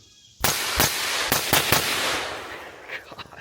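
A CMMG Mutant rifle firing 7.62x39 through a Rearden muzzle brake, a quick string of five loud, sharp cracks with a blasting roar and echo trailing off afterward.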